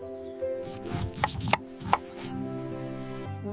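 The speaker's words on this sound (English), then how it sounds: "She is cutting pineapple" A knife slices through a pineapple in a few short, crisp strokes, clustered together and moderately close, over a steady sustained musical tone.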